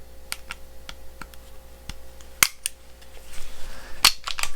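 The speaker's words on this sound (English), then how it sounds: "at which time the slide stop can be reinstalled" Metal parts of an FN Hi Power pistol clicking as the slide stop is reinstalled, a series of light close ticks and two sharper snaps, followed by faint handling rustle.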